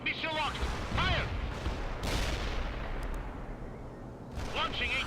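Missile launches and artillery fire in the World in Conflict strategy game, a dense rumbling barrage of blasts and booms that keeps going throughout, loud and close, with radio voices over it.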